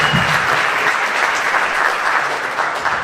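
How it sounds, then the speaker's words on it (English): Audience applause at a high school fall jazz concert, a steady, dense wash of clapping from a large crowd in a hall, sustained evenly throughout with no speech. "How about a round of applause for you for being band parents?"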